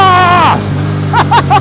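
A 2025 Royal Enfield Bear 650 motorcycle engine on a wet road in light drizzle: a loud tone that sweeps down as the revs drop, then three short, sharp throttle blips in quick succession.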